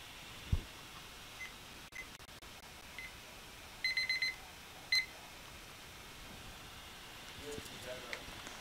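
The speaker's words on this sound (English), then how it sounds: "Timer." A timer alarm goes off during a live art auction, giving a quick burst of four electronic beeps and then one more a moment later, over quiet room noise with faint voices.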